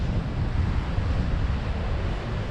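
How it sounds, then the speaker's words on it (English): Stormy sea waves roll in at Craster on the Northumberland coast, a dense, steady roar of surf mixed with heavy wind buffeting the microphone, loud and unbroken with no voices. "Just look at those waves behind rolling in."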